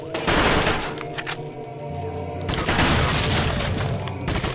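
Dense, loud gunfire from the Resident Evil 4 Separate Ways game: a rapid fusillade of shots and booms runs almost continuously, easing briefly in the middle before surging again.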